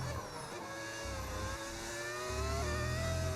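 A Formula 1 car engine in the F1 25 racing game holds a steady, high-pitched whine that climbs slowly through the revs, continuous and loud with no talking over it.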